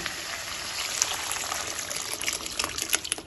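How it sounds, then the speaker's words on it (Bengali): Boiled lentils (dal) poured into a pan of sautéed bottle gourd, a soft close trickling and splashing of liquid with small wet spatters, no voices. "এবার আমি সিদ্ধ করে রাখা ডালটা দিয়ে দিলাম"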